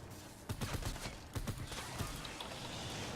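Wraith assault rifle fire in Fortnite Save the World, several quick bursts of rapid shots in a row, crisp and fairly close, followed by a lingering ambient tail.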